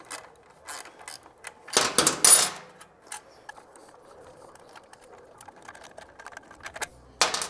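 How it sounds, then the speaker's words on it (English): A 12mm ratcheting wrench backs off a nut while slash-cut exhaust tips are fitted to a Speed Twin 900 motorcycle, giving quick clicking ratchet bursts and handling clatter, close and fairly quiet, with no talking. "get our 12mm ratcheting wrench, and undo the nut over here"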